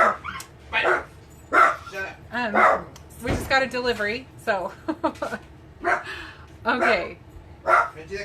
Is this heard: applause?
no